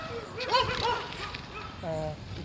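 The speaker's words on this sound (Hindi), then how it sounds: "ये कुत्ते वुत्ते भौंक रहे हैं" Dogs give a few short barks and yips at moderate distance in a Hindi-speaking outdoor street setting, while someone talks quietly over them.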